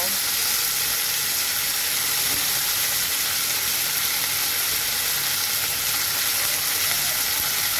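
Cut vegetable stalks hit a hot pan of oil, giving a steady, loud frying sizzle and hiss that holds without a break. Faint speech murmurs underneath now and then.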